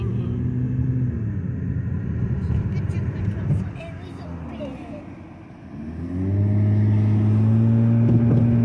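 Car interior rumble while driving in road traffic during a Canada road trip, engine and tyre drone dipping briefly mid-way then swelling again as the vehicle accelerates, with voices talking over it.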